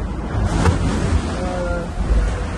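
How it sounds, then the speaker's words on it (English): Seawater splashing across the deck of a Vendée Globe racing sailboat reaching fast in the Southern Ocean, a steady rushing wash with wind roar and a brief louder surge, no voices. "Some splashes coming over deck"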